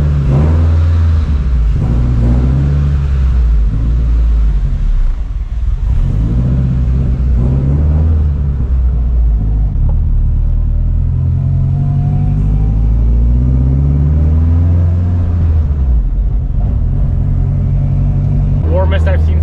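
An all-wheel-drive Honda Civic Type R is driven on the road, its engine droning loud and close from inside the car, pitch rising and falling with revs and shifts.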